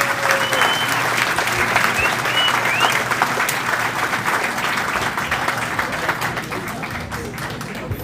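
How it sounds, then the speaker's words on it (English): Sustained, dense applause from an audience at a doctor panel, loud and steady throughout with a few faint voices in the crowd. "Can we have a big round of applause for our experts who shared their knowledge and their wisdom?"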